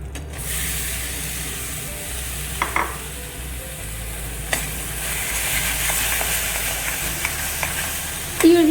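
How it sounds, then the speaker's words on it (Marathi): Freshly ground coconut for a modak filling is stirred and roasted in a pan, a steady soft sizzle and hiss with occasional scrapes and clinks of the spoon, no voices. "तर आता आपण हे खोबरं यामध्ये ॲड करतो"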